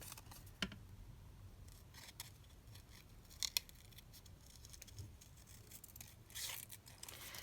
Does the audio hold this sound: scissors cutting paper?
yes